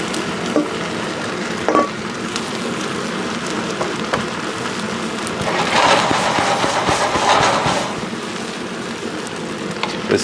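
Rice frying in a heavy outdoor wok, a steady crackling sizzle that swells louder in the middle with stirring scrapes and clinks, no talking.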